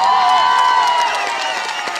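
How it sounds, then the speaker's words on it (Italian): A carnival awards crowd in Ortona, Italy, cheers and claps loudly, with shouts and whoops rising over a continuous wash of applause, tones drifting through the noise. "Io farei un super mega applauso a tutti i ragazzi di Ortona"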